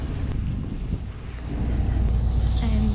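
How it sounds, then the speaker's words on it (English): A Hallberg-Rassy 54 sailboat motors under engine on the Chesapeake between Deal, Maryland and Norfolk, Virginia, on a windless day: a loud, steady low rumble with broadband hiss fills the whole stretch without a break. "Hours into the journey, still motoring, not a breath of wind."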